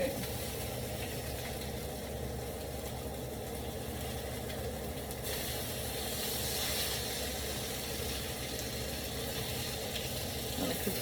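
Hamburger steak sizzles and hisses steadily in a hot pan, a continuous crackling fry with a low background hum that brightens partway through, with a faint voice in the background.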